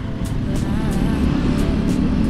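A motorcycle rides through a morning traffic jam, giving a loud, steady engine and road rumble with wind buffeting close by and no talking.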